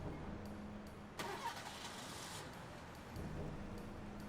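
A car engine cranks with a sharp burst of noise, catches and settles into a low steady idle, which carries on quietly to the end.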